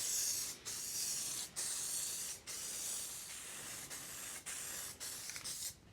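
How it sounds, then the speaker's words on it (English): Solvent-based paint sprayed in light coats onto a Pro-Line NASCAR truck body for a Kyosho Dune Master RC truck, a close hissing spray in several bursts separated by short pauses. "You want well ventilated when you're spraying this stuff because this is a solvent-based product also."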